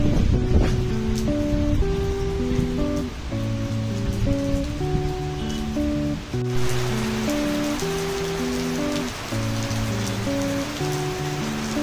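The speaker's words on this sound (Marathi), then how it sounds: "पावसाला सुरुवात झाली." Steady rain patters down throughout, partly covered by music with sustained tones playing over it.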